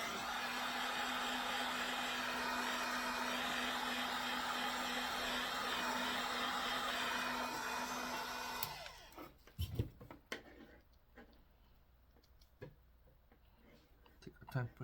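A heat gun blows a steady, loud rush of hot air for about nine seconds while an Uhlmann fencing reel is serviced and its wire replaced, then cuts off, leaving scattered clicks and handling knocks.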